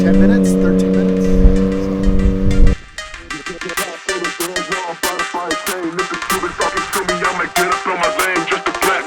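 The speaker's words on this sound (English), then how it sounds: "right now we have the first overall car coming through the pits" Race car passing through the pits: a loud, steady harmonic engine drone that cuts off abruptly, followed by busy, clattering pit-lane noise and talk.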